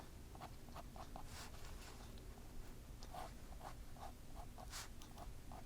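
An ink pen scratches across paper while a marigold is drawn, a quiet series of short, brisk strokes in a loose rhythm over a faint hiss.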